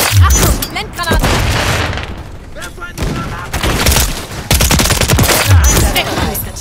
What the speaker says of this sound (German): Achtung, Blendgranate.